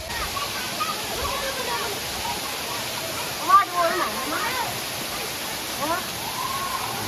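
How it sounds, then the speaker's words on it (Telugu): Talakona waterfall near Tirupati roars as a steady, close broadband rush of falling water throughout, with people talking over it. "ఇదే తలకోన వాటర్ ఫాల్స్"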